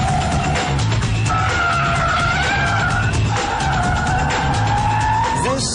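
A Mazda RX8 with a rotary engine is driven hard, its tyres squealing and skidding in long sustained screeches over a loud, continuous high-revving engine drone.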